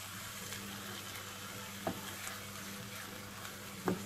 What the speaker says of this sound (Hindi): कीमे को अच्छे तरीके से ऑयल में मिक्स कर लें।